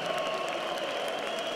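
Audience applause at an ACA 168 mixed martial arts fight event in Moscow: a steady wash of crowd clapping, even and sustained throughout, moderately loud with no talk over it.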